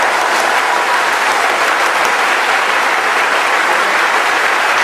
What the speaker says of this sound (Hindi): अपने जोर से, एक बार जोर से ताली बजाएं।